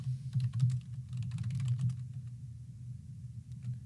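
Close, steady typing on a computer keyboard during a terminal session, a rapid patter of key clicks with a low hum beneath and no talk.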